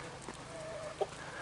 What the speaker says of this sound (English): the chickens are already in it and already enjoying it